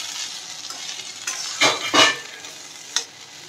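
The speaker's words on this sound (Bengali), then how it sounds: "আলু ভাজা" Potatoes frying in a pan give a close, constant sizzle, with louder stirring scrapes and clatters breaking through a few times.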